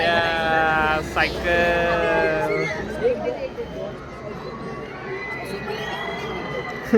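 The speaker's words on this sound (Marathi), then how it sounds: "सायकल दिसली पोरं लागली ओरडायला" Children shouting excitedly at a passing bicycle, high voices and cries in a crowd near a roadside, with someone talking over the noisy chatter and shouts that fade into background murmur.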